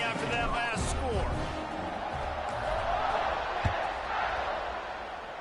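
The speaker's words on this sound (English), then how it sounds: "this crowd is buzzing after that last score" Broadband roar of a college football stadium crowd buzzing after a touchdown and extra point that gives a 17-point lead, a steady loud wash with a sharp thump near the end, heard under a game commentator's voice in a college football video game.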